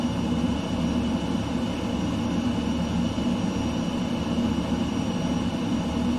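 An F-15 jet flying low over a village in Microsoft Flight Simulator 2020, a continuous loud engine roar with a steady broadband rumble and whine that holds unchanged throughout, with no voices.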